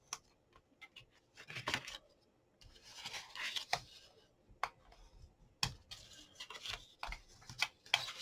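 Paper being cut for a handmade sweet treat box with a straw closure, scattered soft snips and clicks at close range, quiet and irregular, with brief pauses and rustling between cuts.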